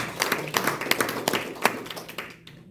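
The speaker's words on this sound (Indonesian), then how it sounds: "Kita berikan tepuk tangan buat Tuhan." A church congregation claps during a Sunday worship service, with sharp, uneven hand claps of moderate loudness that fade into quiet at the end.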